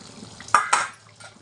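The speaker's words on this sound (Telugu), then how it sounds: "ఒకసారి మూత తీసి చూసుకుందామా." A metal lid is lifted off a pot of simmering eggplant masala curry, making two quick, close clinks against the rim in an otherwise quiet kitchen.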